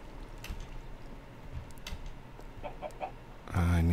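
A Minecraft chicken clucks in a few short, soft bursts over quiet game ambience, followed by a sudden louder tonal burst at the very end.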